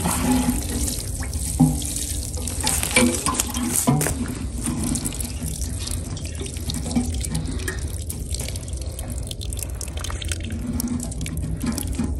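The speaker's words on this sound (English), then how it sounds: "I'm just gonna put a little water on it." Water runs steadily from a tap, a continuous splashing hiss with occasional small clinks, moderately close.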